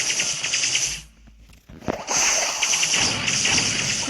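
A flashy shooting effect from Moko's new skin in a Brawl Stars-style mobile game: bright whooshing shots and hits, a sharp thump near the middle, then dense layered game sound continuing without a break.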